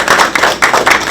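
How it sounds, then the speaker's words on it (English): Applause at the grand opening of a United Way Financial Opportunity Center in Perth Amboy, a brief burst of clapping from a gathered crowd, steady and fairly loud throughout with no voices over it. "please give yourselves a round of applause for their launching"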